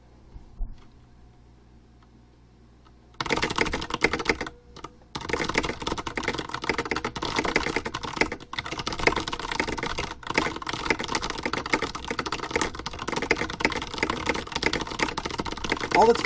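Rapid, continuous typing on a computer keyboard, close and loud, with dense clattering keystrokes that barely pause after a quiet start.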